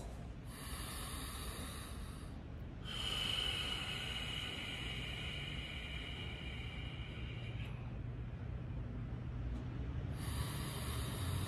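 Slow, deep breaths are drawn in through the nose and pushed out through the mouth, soft and close, with several long airy inhales and exhales in a quiet room.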